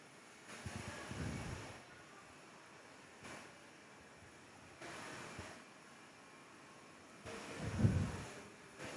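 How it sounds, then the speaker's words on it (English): Aircraft running engines at Perth Airport on a wet day, a distant low rumble that swells and fades in several broad surges, with the loudest near the end and no talk. "The aircraft doing engine runs over there."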